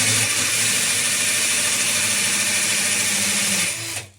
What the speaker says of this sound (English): turn on your drill